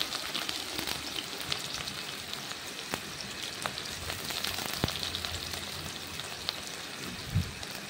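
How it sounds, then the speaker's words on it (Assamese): Onions fry in hot oil in a kadai, a soft, continuous sizzle with scattered small pops, fairly faint and close. "তেল গৰম হৈ গ'ল, এতিয়া পিঁয়াজখিনিও দি দিছোঁ"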